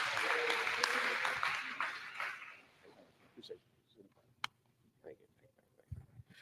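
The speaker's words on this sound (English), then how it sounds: "Nice round of applause." Audience applause for a speaker coming up to share a recovery story, a loud wash of clapping that fades away after about three seconds, followed by a few scattered claps and soft noises in a quieter room.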